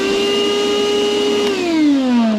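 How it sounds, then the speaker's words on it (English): A battery-powered portable shop vac runs steadily inside a van, a loud, close continuous motor whine that dips slightly in pitch near the end as the load changes. "vacuum it up"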